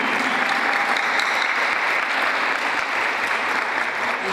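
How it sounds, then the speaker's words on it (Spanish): Steady applause from an audience at a ceremony welcoming a new member, with a certificate presented for support during a census; dense, continuous clapping holds at an even level throughout. "aplaudimos su presencia"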